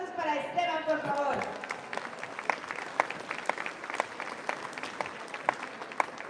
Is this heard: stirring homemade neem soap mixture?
no